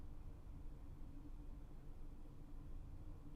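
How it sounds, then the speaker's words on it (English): Distant traffic and engines make a faint, steady low whoosh and rumble heard from indoors, continuous and even with no voices. "I hear movement and distant whoosh of traffic and engines."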